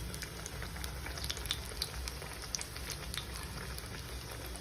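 A Maggi and poha snack fries in a pan, giving a continuous, fairly quiet crackling sizzle with scattered sharper pops, steady and uninterrupted throughout.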